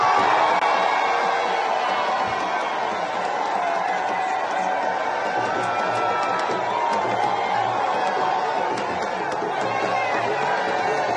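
A dense crowd of supporters in Abuja cheers and chatters continuously, a loud, sustained roar of many voices mixed with shouts.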